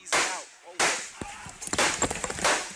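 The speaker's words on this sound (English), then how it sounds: "gunfire suddenly erupted" Gunfire at a mall in Jacksonville, Florida: a few loud, sharp bangs followed by a rapid string of smaller cracks, with a voice crying out between them.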